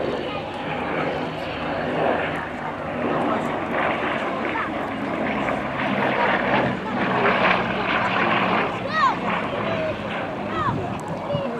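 Bristol Blenheim aircraft flying at the RAF 100 Cosford Air Show 2018: a steady propeller-engine drone with some rise and fall, heard under continuous commentary over a loudspeaker.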